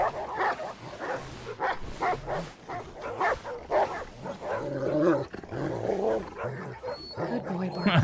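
Several dogs bark and yelp in rapid bursts while fighting a wolf in an Alaska survival video game, loud and close, with growls between barks.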